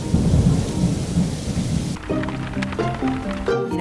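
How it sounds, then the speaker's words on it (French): A sudden heavy rain shower with thunder breaks over Monte-Carlo, a dense loud roar of rain and rumbling that shifts midway into rain pattering on a surface with ringing tones over it. "tout à coup, il s'est mis à pleuvoir"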